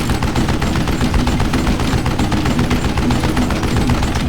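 Rapid gunfire in the Wild West shooter Call of Juarez: Gunslinger, a loud, dense burst of shots rattling in quick succession for several seconds, close and without speech.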